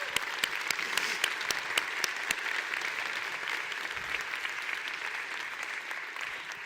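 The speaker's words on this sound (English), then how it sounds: "kickstart a massive round of applause to thank our MVPs, our CDL partners" Steady applause from a conference crowd fills the whole stretch, with sharp individual claps standing out early before settling into an even patter.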